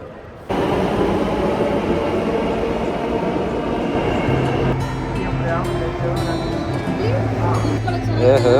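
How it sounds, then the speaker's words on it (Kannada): Interior of a moving metro train in a busy city, a steady rumble with rhythmic rail noise and low hum that rises slightly near the end, with a loud crowd and people chatting over it throughout. "ಸೊ ಇವಾಗ ಹೊಡ್ತೀವಿ ಮೆಟ್ರೋಯಿಂದ"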